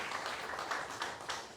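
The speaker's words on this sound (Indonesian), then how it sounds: "Kasih tepuk tangan buat And Tuhan." A church congregation claps during a Sunday service, a short burst of moderately loud, dense applause with no voices.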